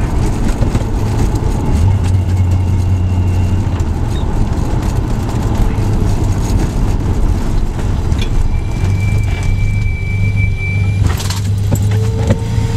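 A car engine with a misfire idles steadily up close, a continuous low rumble with a rough, uneven pulse, alone and without talk throughout.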